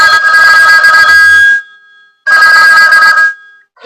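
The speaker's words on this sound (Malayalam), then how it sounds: "ആ റിംഗ് ട്യൂൺ നമുക്ക് ചെക്ക് ചെയ്യാം ഇതുപോലെ." A custom phone ringtone that calls out a person's name plays loudly in two bursts separated by a short silence, with bright sustained tonal melody and no other talk.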